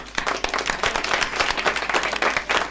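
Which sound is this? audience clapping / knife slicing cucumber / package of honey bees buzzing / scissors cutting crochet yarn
audience clapping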